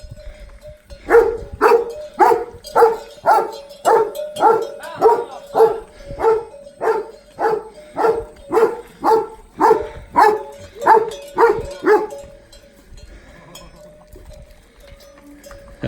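A dog barks in a steady, regular series of about twenty loud barks, evenly spaced, while cattle are herded down a village street, then the barking stops and only faint background remains.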